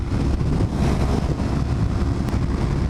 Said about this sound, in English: Man, this wind.